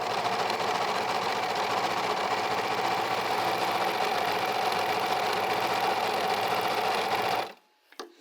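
American Home serger sewing a 3-thread narrow hem, a loud steady mechanical whir running continuously up close before stopping abruptly near the end.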